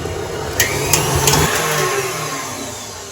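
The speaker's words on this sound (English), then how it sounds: "I've got a whisk attachment, and I'm just going to whip that on high for about 5 minutes" An electric stand mixer with a whisk attachment whips softened unsalted butter on high, a steady loud motor whir with faint periodic clicks, close and without talk.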